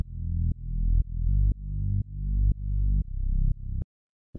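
A synthesizer bass made with Ableton's Operator plays the chord root notes as a steady series of about eight evenly spaced, swelling low notes, each building in loudness before the next, then stopping abruptly.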